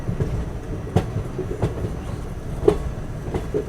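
Sachkhand Express with ICF coaches at a station, heard as a steady rolling rumble with a few sharp rhythmic wheel clacks spaced about a second apart.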